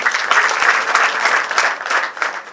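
A crowd applauds performers at a show, bursts of dense clapping, loud and close, with no talk over it.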